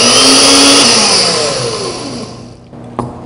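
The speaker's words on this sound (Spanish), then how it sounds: "Ya vaciamos a la licuadora vinagre, cilantro y estamos agregando aceite de oliva." A kitchen blender mixes a cilantro vinaigrette of vinegar, cilantro and olive oil, its loud whirring motor holding a high pitch and then gradually winding down and fading, ending with a brief click.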